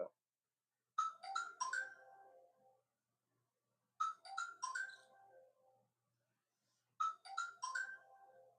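A mobile phone rings during a live cooking stream, sounding a clear melodic ringtone three times at regular intervals with silence between each burst, fairly close and alone.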